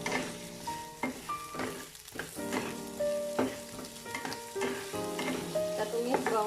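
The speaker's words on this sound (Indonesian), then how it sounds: "Kita tumis bawang bombaynya sampai layu dan harum ya." Onion and ground meat stir-fried in a pan, crackling sizzle with repeated spatula stirs and scrapes, close and clear beneath soft background music.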